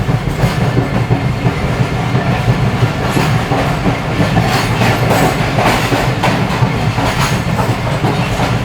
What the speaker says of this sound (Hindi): ये ट्रेन हमारे साथ रिसीव कर रही है हबीबकोट जंक्शन रेलवे स्टेशन को